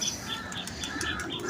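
Pigeons roosting at night in a home loft flap their wings in several quick fluttering bursts, with soft chirps mixed in, close by and with no talking.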